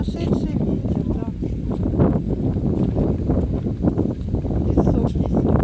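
Squall-force wind gusts roar steadily into the microphone on the Dnieper riverside in Kyiv, a dense, loud rumble with uneven buffeting surges throughout.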